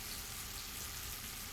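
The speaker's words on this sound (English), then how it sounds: "And then you'll hear that singing of the sizzle." Buttered cabbage sizzling in a pan as the last water cooks off, a faint, dense, even hiss with no other sounds.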